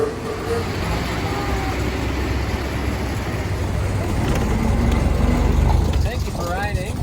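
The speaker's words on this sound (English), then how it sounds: "All right, Model T ride. Here we come." A Ford Model T sets off on a ride through Greenfield Village, its engine a low, steady rumble that swells slightly as it gets under way, with faint voices around it.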